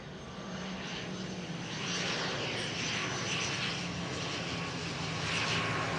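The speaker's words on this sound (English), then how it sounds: "We hear a lot of planes passing over here because we are in close proximity to the Grantley Adams Airport." A steady, broad engine roar of an airplane passing overhead near Grantley Adams Airport, Barbados, swelling slightly louder midway and holding, with no voices.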